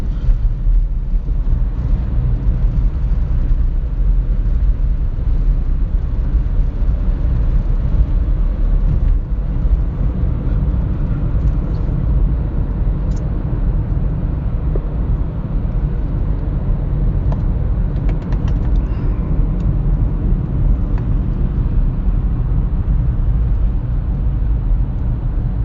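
Road traffic rumbles loud and steady for the whole stretch, a continuous low drone of passing vehicles heard close up with no clear break or quiet gap.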